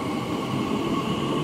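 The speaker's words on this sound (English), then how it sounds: "now departing off to Heathrow Terminal 5" A train pulls away from West Ealing on the Great Western Main Line, bound for Heathrow Terminal 5 on a stopping service, giving a steady close rumble with a sustained whining tone throughout.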